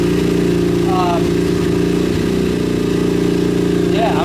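A KTM 250EXC-F motorcycle engine idles steadily and loudly close by, a continuous throbbing hum with a few faint, brief higher chirps over it.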